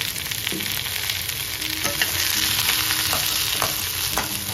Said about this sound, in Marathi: आता आपण कांदा पण भाजून घ्यायचा याच्यामध्ये।